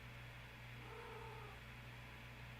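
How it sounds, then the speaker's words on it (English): A cat in heat gives a faint, drawn-out moaning yowl at a distance, low and sustained over a quiet background hum. "And the cat moaning a bunch. And being in kitty heat."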